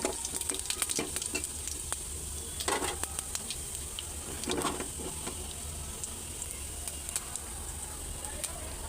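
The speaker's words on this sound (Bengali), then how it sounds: "এখন অল্প রসুন দিয়ে এর জন্য বাগার দিব" Garlic and five-spice tempering sizzles in hot oil for dal, a close crackling fry with scattered spits and stirring clatter, fairly quiet and steady throughout.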